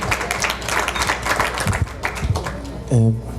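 An audience at a memorial event for the ABC Daycare tragedy claps steadily in a dense, continuous wash of applause, fading slightly before a single voice briefly speaks up at the end.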